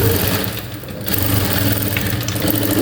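A sewing machine stitching a blouse outline runs loud and close in a continuous rapid whir, with a brief dip before resuming steadily.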